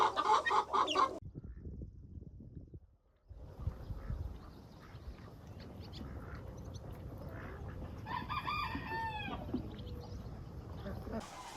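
Chickens cluck and murmur steadily throughout in a barn, digging through old hay, with a brief louder squawk near the end, under a rustling background and a short voice at the start.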